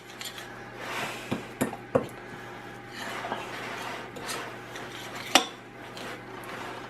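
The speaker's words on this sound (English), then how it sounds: "So we're going to start off with mixing this and get it into like a dough" Chickpea cracker dough is being mixed in a bowl, with scraping and stirring sounds and a few sharp clinks of utensil against the bowl, close and moderately quiet.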